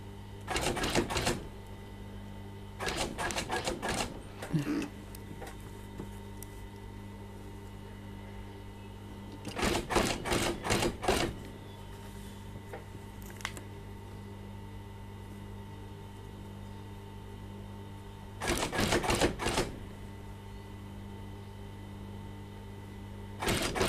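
Sewing machine stitching a shirt collar along the collar band, running in four short bursts of rapid whirring stitches separated by longer pauses over a steady low hum.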